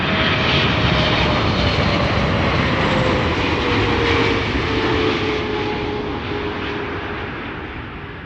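Boeing 777-300 jet at Amsterdam Schiphol Airport, a loud steady engine roar with a slowly falling whine, fading gradually as the aircraft moves off, no voices.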